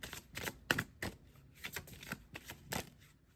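Tarot cards being shuffled in quick riffling bursts, a string of crisp papery flutters and taps, close and fairly soft, with no talking.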